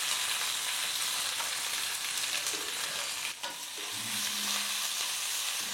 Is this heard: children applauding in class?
no